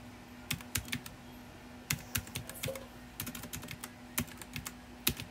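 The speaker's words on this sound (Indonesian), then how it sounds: "kalau ngetik di sini kayak susah ya" Fingers type on a computer keyboard in quick, irregular bursts of sharp clicks separated by short pauses. The sound is close and clear, with no speech.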